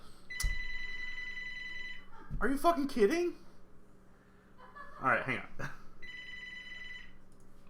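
Two bursts of a landline telephone ringing, each with a repeated electronic bell pattern, fairly close and loud, separated by someone talking over the line.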